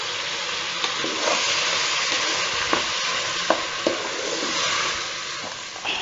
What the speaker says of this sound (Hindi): अभी हम इसमें चावल ऐड करेंगे और चावल को भी अच्छे से भून लेंगे।